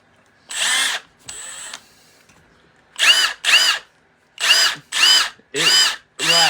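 Milwaukee Fuel brushless impact driver on mode 2, running in short loud whirring bursts of about a second each, roughly seven bursts separated by brief pauses, close up with no talk.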